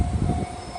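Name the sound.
long freight train passing in Japan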